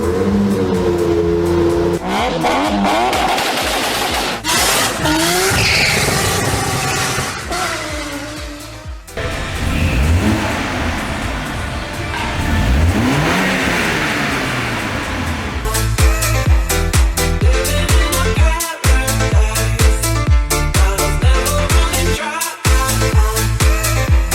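A BMW 220i on its stock exhaust fires up and revs, the engine note rising and falling through several throttle blips, loud and close, with a sharper, busier stretch of revving toward the end.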